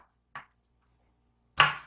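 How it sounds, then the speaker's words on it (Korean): Two separate knife strokes on a cutting board while an onion is thinly sliced, a short light cut followed by a louder, crisper chop, both close and with no talking. "먼저는 양파를 얹어 먹을 거니까 쓸 만큼만 얇게 썰어서 물에다 담궈주세요"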